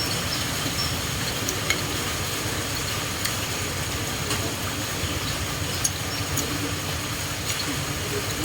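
Fish sauce with tomato and shallots frying in a pan, a steady dense sizzle with occasional small pops and stirring clatter, continuous and close.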